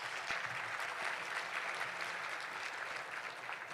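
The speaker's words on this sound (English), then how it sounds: "Let's give them a round of applause, can we?" Audience at an advocacy general session applauds the league staff, a steady, dense wash of clapping from a large crowd lasting throughout, moderately loud with no talk over it.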